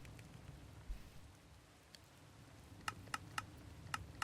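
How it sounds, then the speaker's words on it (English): Rain falls in the Minecraft video game, a soft steady patter spread across the clip with a few sharp ticking drops standing out near the end; fairly faint, with no voices. "It's currently raining."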